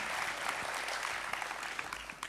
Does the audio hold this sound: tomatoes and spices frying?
no